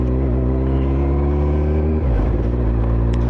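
A cold ZZR 1400 motorcycle pulls away, its engine drone loud and steady through a helmet-mounted mic, with the pitch dropping sharply around two seconds in, like a gear change, before settling again.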